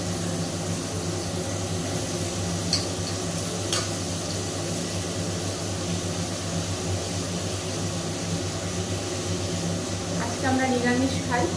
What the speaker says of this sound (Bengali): পালং শাকের সবজিগুলোকে ভেজে নিই।